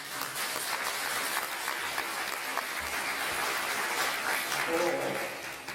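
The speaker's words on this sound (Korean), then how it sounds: "저는 큰 박수를 보내고 싶은데 여러분 거기에 동의" A church congregation at a thanksgiving worship service applauds with steady, sustained clapping that fills the room at an even level throughout.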